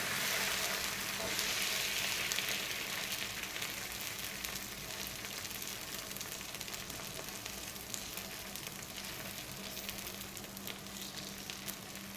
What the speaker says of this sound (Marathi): बघा आता मस्त असं डोसे तयार होईल लागलेले आहेत